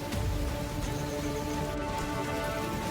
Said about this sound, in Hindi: गुना में लंबे इंतजार के बाद उमस से निजात दिलाने वाली बारिश आई।